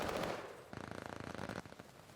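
Rapid bursts of MP40 submachine gun fire in a Call of Duty match, a dense rattling stream of shots heard close and loud, with a brief pause before another short burst.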